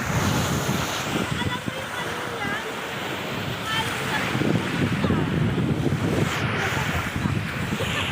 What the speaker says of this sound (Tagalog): Hala, lalaki ng alon lalaki ng alon.